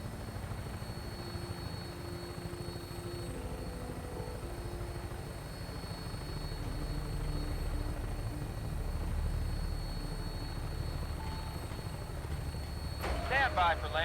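A Vertibird aircraft in Fallout 4 drones with a steady low rotor and engine rumble as it approaches for landing near Sanctuary, swelling slightly, with voices talking over it.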